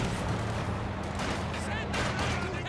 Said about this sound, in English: We've got a heavy mortar out now.